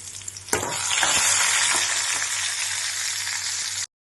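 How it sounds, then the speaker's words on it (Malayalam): Shallots and green chillies sizzle in hot coconut oil with mustard seeds as a tempering for jackfruit seed and mango curry; a sharp hiss bursts in early and holds as a steady, close frying crackle before cutting off abruptly. "കൊച്ചുള്ളിയും പച്ചമുളകും ചേർത്ത് ഇനി നമുക്ക് അതൊന്ന് വഴറ്റി കൊടുക്കാം."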